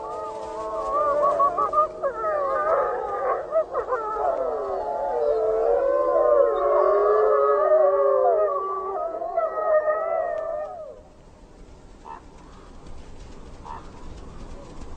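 Gray wolves of the Slough Creek pack in Yellowstone howl together in a long, loud chorus of overlapping rising and falling wails. The chorus carries on for about ten seconds before fading, leaving only quieter background sound.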